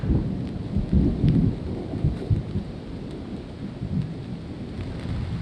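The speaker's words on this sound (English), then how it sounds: "got it set up just in time for a giant Rocky Mountain storm to roll in" A giant Rocky Mountain thunderstorm rolls over a camp, low rumbling thunder swelling and fading over a steady wash of rain, loud and close, with no talking.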